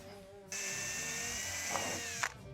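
A 1/4-inch bit drills a hole into metal for a Jeep Wrangler JL tailgate table, a steady high whine running about two seconds close by, with a couple of brief bites as the bit grabs near the end.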